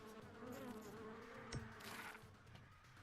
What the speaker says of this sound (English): Why do I hear bees?